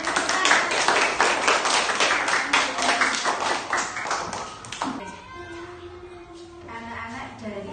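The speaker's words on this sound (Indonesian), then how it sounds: "Tepuk tangan untuk teman kalian yang sudah berani mencoba." Children in a classroom clapping their hands for a classmate, a quick loud burst of many small hands that fades after a few seconds, followed by a teacher's voice speaking.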